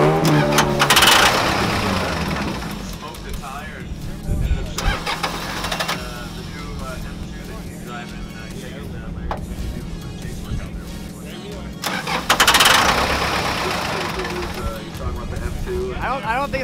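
A Cummins diesel-swapped Miata engine cranks in repeated long bursts, failing to start with a suspected fuel solenoid fault, stopping and retrying, with a low rumble underneath and people talking between attempts.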